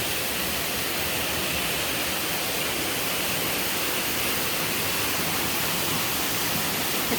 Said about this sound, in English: It's called Diamante waterfalls.